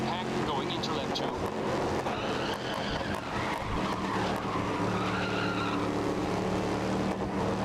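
A car drifts in the racing video game GRID (2019), tires squealing in long wavering screeches over a loud engine roar, with a voice talking over the game sound.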